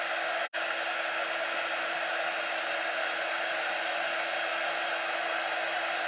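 Hair dryer drying a craft project, a steady loud whooshing blow running continuously with one momentary cutout near the start, no one speaking.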